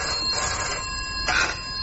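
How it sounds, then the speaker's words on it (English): A telephone rings with a steady electronic bell tone, fairly close and clear, swelling briefly partway through with no voices over it. "Now stop wrestling with my conscience and answer that phone."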